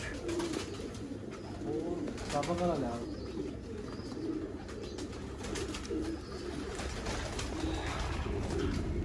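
Teddy pigeons coo softly in low, repeated warbling calls over a constant background hum, with faint rustling nearby.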